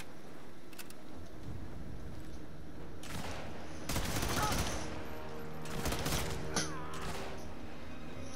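Sniper rifle gunfire in the game Sniper Elite 5, several loud sharp shots with long ringing echoes spread across the stretch, over a steady background rumble with no clear talk.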